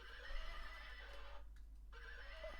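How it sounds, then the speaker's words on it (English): A horse's whinny rises clearly over a steady hum at an esports league event, running nearly continuously across the short stretch with a brief dip midway, with no talk over it. "you could also hear the horse speaking to us"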